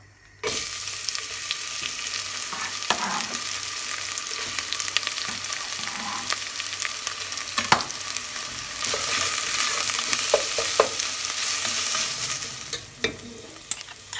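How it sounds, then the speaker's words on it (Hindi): Onions fry in a hot pan for pork adobo, making a steady, close hiss and crackle throughout with occasional stirring clicks and a brief drop in the sizzle near the end. "पॅन ऑलरेडी गरम जालें तें. हांव आतां पियाव फ्राय करता."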